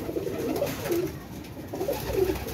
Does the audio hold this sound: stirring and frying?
no